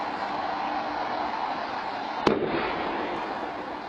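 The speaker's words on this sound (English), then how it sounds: "A home security camera actually captured audio of that 4th explosion, reportedly more than a half-mile away." A bomb explodes more than half a mile away, caught by a home security camera as a single sharp distant bang that cuts through a constant broad outdoor hiss, then fades back into the background rumble.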